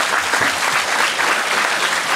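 An audience at a lecture on the Surangama Sutra breaks into applause, a dense, steady patter of many hands clapping from a room-sized crowd, with no speech.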